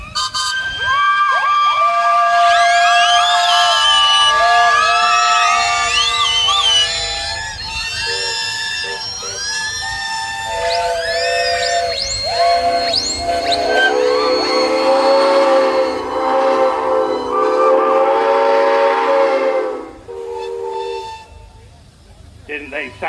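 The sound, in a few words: steam engine whistles at a steam fair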